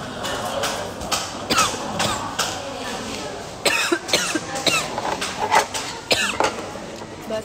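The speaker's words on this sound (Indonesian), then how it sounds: "Batuk terus." A woman coughs repeatedly in irregular bursts, close to the microphone, with some talking mixed in between the coughs.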